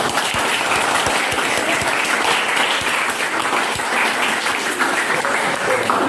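A roomful of people applauding steadily and loudly, sustained clapping with a faint murmur of voices underneath.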